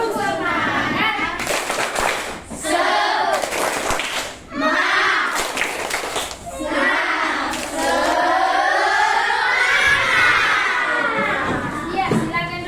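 Schoolchildren in an Indonesian classroom do a rhythmic clapping chant, bursts of hand claps alternating with loud group shouting and singing, close and lively.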